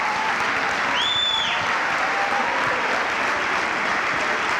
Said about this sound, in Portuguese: aplaude o nome de Jesus com alegria